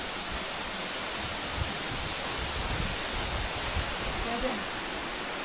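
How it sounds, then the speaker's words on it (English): A mountain waterfall rushing beneath a footbridge, a broad steady roar of falling water with faint low thumps and murmured voices mixed in. "You're basically crossing a bridge over this waterfall."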